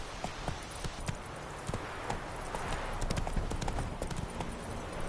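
Hoofbeats of Roach, Geralt's horse in The Witcher 3, drum in a steady galloping clip-clop, loud and close over a continuous rushing background.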